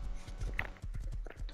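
Horse hooves clip-clopping in the Rust video game, a quick run of close, hollow thuds in an uneven trotting rhythm over about a second and a half.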